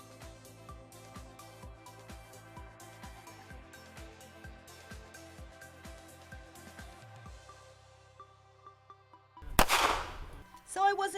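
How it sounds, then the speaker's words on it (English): A 9mm 5906 pistol fires at a shooting range: after a stretch of rhythmic background music, one sharp, loud report bursts out near the end, followed by a second fainter crack. "After our safety briefing and learning how to lock and load, it was time to fire away."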